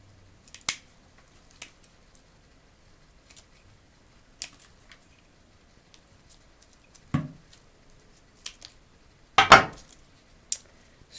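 Scissors snip through the root of a phalaenopsis orchid in a few sharp, isolated clicks and crunches with quiet gaps between, one louder cut near the end, close by and with no one speaking.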